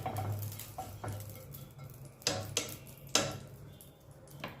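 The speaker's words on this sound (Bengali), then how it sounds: "কড়াইয়ের চারপাশে লাগিয়ে দিচ্ছি ঘিটা।" Ghee is spread around a wok on the stove before litti are cooked. A utensil scrapes and knocks against the metal in several sharp, irregular clanks over a faint low hum, with no one talking.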